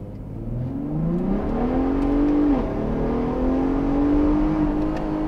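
Ford Raptor pickup truck engine revving hard under acceleration, the pitch climbing, dropping sharply at a gear shift, then rising again, loud and close from inside the cab.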